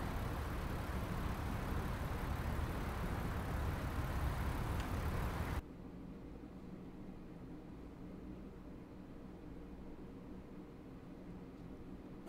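Trucks drive in the American Truck Simulator game with a loud, steady broadband engine and road rumble that cuts off abruptly partway through, leaving a quieter low hum to the end. No one speaks.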